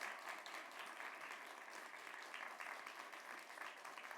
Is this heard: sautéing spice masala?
no